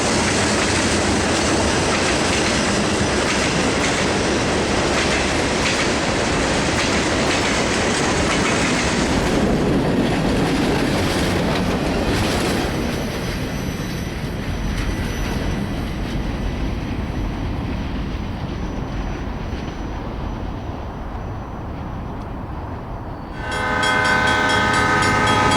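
A westbound Santa Fe freight train headed by a C30-7 diesel locomotive rumbles past near Malt with a loud, continuous roar and rolling wheel noise, fading somewhat before a steady horn blast sounds near the end.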